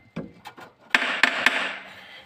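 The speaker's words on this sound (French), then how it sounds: "le petit coup de marteau comme d'habitude." Light hammer taps on the gearbox of a Peugeot 205, a few soft knocks followed by three sharp metallic strikes in quick succession that ring briefly, close by.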